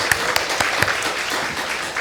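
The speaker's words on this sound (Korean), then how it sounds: "우리 부활하신 주님께 감사와 영광의 박수 돌리겠습니다" Congregation clapping during an Easter thanksgiving church service, a brief burst of dense, even applause with a few sharper claps standing out, fairly close and loud.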